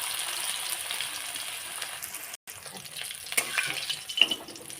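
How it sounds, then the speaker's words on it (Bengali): Patties fry in hot oil in a wok, giving a steady soft sizzle with a brief pause partway through and a few sharper crackles and stirring sounds later on. "ভালো করে উল্টিয়ে পাল্টিয়ে ভেজে নিয়েছি"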